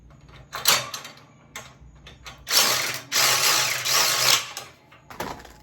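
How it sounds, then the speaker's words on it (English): A power drill bores a hole through a steel bracket for an undermount trailer ramp, with several bursts of loud grinding drilling broken by short pauses and a final shorter burst, close by. "Okay, let's drill it out."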